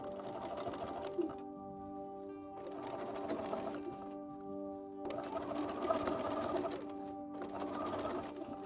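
A sewing machine runs in short bursts of steady humming whir while basting the top edge of a scalloped trim, stopping briefly between runs, close and clear with no speech.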